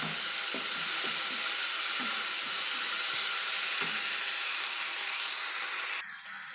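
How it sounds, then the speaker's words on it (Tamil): Chopped tomatoes sautéing in a hot pan for an okra masala fry, a loud steady sizzle and hiss with faint stirring scrapes, dropping in level near the end. "தக்காளியை சேர்த்து தக்காளி கொஞ்சம் வதங்குற அளவுக்கு நம்ம வதக்கிக்கலாம்."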